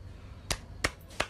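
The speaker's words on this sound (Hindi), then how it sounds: "तुम ताली बजा के क्या साबित करना चाह रहे हो" Three sharp, separate hand claps spaced about a third of a second apart, each crisp and fairly close, standing out against a quiet background with no talking.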